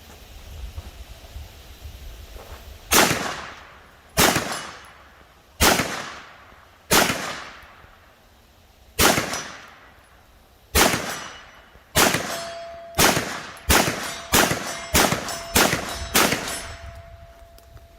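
A 9mm carbine fires about fourteen shots at steel targets 75 yards away. Each crack is followed by a ringing clang, first at a slow, even pace and then in a quicker string, with no talking.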